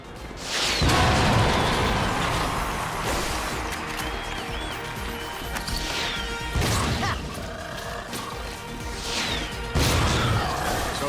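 Repeated fusion grenade blasts from a glove weapon in the Ratchet & Clank game, several loud bursts spaced a few seconds apart over a continuous bed of game music and mechanical effects.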